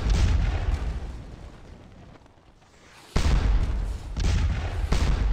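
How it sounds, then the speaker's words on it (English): Heavy cannon fire rolls over a Napoleonic battlefield at Waterloo in a strategy game, loud dense booming that fades into a quieter lull before a fresh sharp salvo bursts in and keeps rumbling. "In the center, Prussian columns come under heavy cannon fire."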